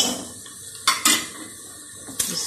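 Ginger garlic paste fries in ghee with onions, giving a soft, steady sizzle. Three sharp clinks of a spoon stirring against the pan break through it, close by.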